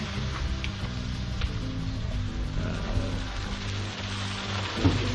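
Kale stir-frying in a pan after a splash of water, giving a steady, dense sizzle and crackle throughout, close and continuous.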